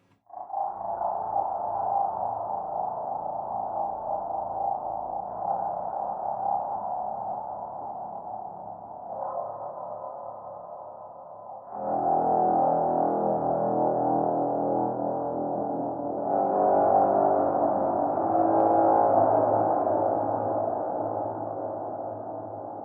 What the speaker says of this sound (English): Massive reverb.